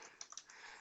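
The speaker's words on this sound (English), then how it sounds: "Here I am typing" Typing on a computer keyboard during Active Directory user administration, a few quick soft key clicks close by against a faint background hiss, no voices.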